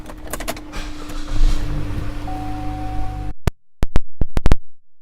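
Power windows of a 2014 Chevrolet Cruze LT whir as the glass runs for about three seconds, a steady motor hum over light road noise, ending in a stop followed by several sharp clicks and thumps.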